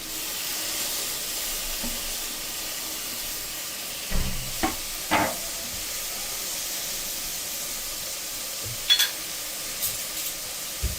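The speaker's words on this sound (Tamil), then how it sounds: "வெங்காயம் லைட்டாக வதங்கினதுக்கப்புறம்" Onions sautéing in a pan for a South Indian kuzhambu give a steady, soft sizzling hiss throughout, broken by a few brief clinks and stirring knocks; no one talks.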